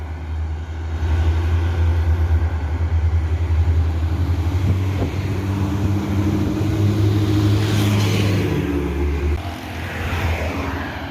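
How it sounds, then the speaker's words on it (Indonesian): A long-distance intercity bus pulls away from Sumbar toward Jakarta, its big diesel engine droning loud and close with a deep steady rumble that swells in a sustained rev before easing off. "Bus yang pertama menuju Jakarta, berangkat dari Sumbar"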